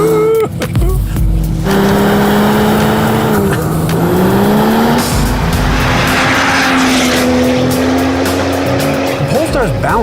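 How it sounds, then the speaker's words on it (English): A 2016 Volvo V60 Polestar drifts sideways through a corner, its engine droning loud and rising in pitch as tires squeal and scrub continuously close by. "You can get it sideways on the way into a corner and then just feed in power, and it sends enough power to the back to hold the drift"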